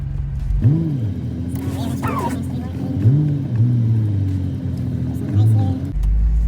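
A Nissan 350Z pulls out of a snowy driveway, its engine droning and rising in pitch through several revving surges, with the tone dropping as it settles between pushes, close by and fairly loud.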